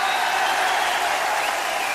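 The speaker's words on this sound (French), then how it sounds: "Je vous demande d'applaudir le jury du Cheval de France 2017" An audience at a show-jumping horse ceremony applauds the jury, thick sustained clapping from a large crowd filling the space evenly and loudly, with no voices standing out.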